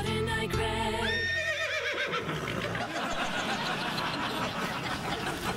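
A whinnying neigh rises and falls in pitch over the first two seconds, then fades into a burst of crowd laughter and noise in a late-night TV studio.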